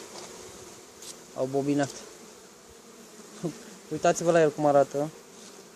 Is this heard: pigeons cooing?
no